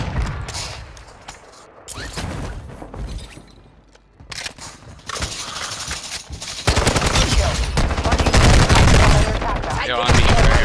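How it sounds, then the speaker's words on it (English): Dense automatic gunfire and explosions in the video game Call of Duty, loud and continuous, growing heavier toward the end. "Where is he shooting?"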